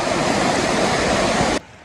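A river rushes steadily at Bolao cold spring, a loud, continuous broadband wash of flowing water close by that cuts off abruptly near the end.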